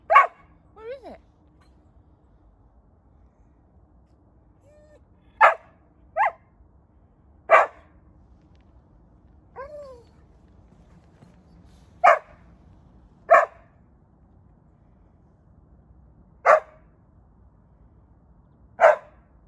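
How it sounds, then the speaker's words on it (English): Rescued racing greyhound barking excitedly at a squirrel, a series of sharp, separate barks and yips spread out with long gaps, close and loud, with a person talking quietly in between. "It's one of the very few times that you'll hear her bark."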